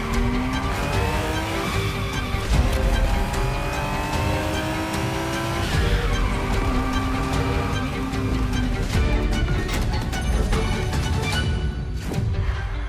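A Ferrari Testarossa races in The Crew Motorfest, its engine revving up and down through gear changes while tires squeal and skid, loud and close with no voices.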